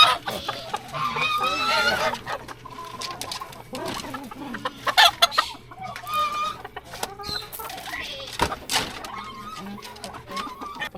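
Chickens cluck and squawk repeatedly around a busy yard in a Rio de Janeiro favela, with scattered bird calls overlapping one another, fairly close and steady throughout.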